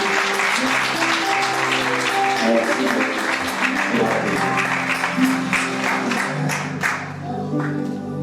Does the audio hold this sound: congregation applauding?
yes